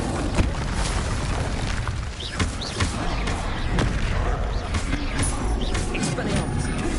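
Spell-casting effects in the Hogwarts Legacy video game, a steady stream of booms, bursts and magical impacts rolling one after another, with a person talking over the combat.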